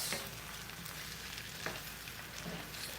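Fresh tomatoes simmer and sizzle in a cooking pot as they are stirred. A steady, faint hiss of frying is broken by a few soft scrapes from the stir, with no talking.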